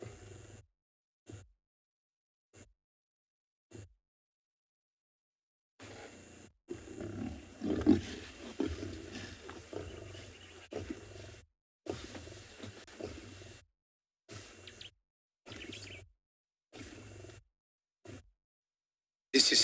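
A lion standing over its prey growls and snarls in low, rumbling bursts, close and rough, in intermittent stretches broken by sudden silent gaps.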